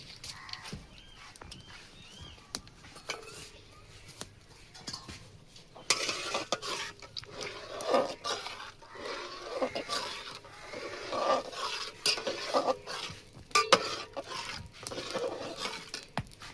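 A spoon stirs milk in a metal pot while vinegar is added to curdle it for chhana, giving soft scraping and clinking that grows louder and busier midway, with faint background noise.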